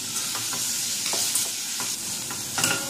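Onions sautéed with salt sizzle steadily in a pan while a spoon stirs them, leaving soft repeated scraping strokes over the continuous frying hiss, close up and with no talking.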